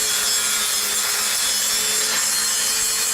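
An angle grinder works on an exhaust manifold being cut down for a 4BT Cummins, producing a loud, continuous harsh rasping grind that holds steady for a few seconds with no voices.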